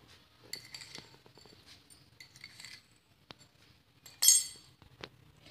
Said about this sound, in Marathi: ही साखर अशी छान या पाकळ्यामध्ये मिक्स करून घ्यायची आहे।